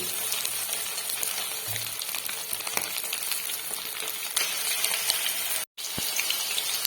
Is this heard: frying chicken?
yes